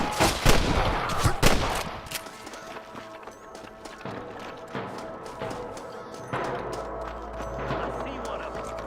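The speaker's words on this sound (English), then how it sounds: "I can hear more gunshots." Rapid bursts of gunfire in a cowboy video game, loudest at the start then settling into scattered shots over rumbling background noise and faint voices.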